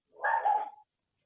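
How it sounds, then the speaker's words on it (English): A dog gives a single short bark, fairly close and moderately loud, followed by silence. "Sorry for the dog barking."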